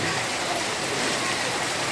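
Rain falls steadily at the Periyar boating area in Thekkady, near the Mullaperiyar dam extension, making a dense, even hiss of drops throughout with no voices heard.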